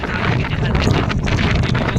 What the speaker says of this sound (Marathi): गावाकडे खूप सुटलाय मुसळधार वारा सुटलाय, खूप वारा आलाय